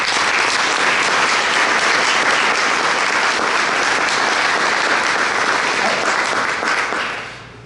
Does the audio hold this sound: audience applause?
yes